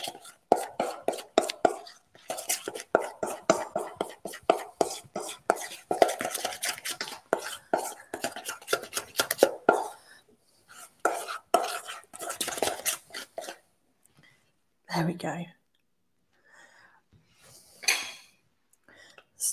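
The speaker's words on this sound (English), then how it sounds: "And give this a good stir, and you'll get that light chocolate" Spoon stirring a no-bake triple chocolate cheesecake mixture in a bowl, making a quick run of scraping, clinking strokes that carries on for about ten seconds, then a few scattered bursts after short pauses.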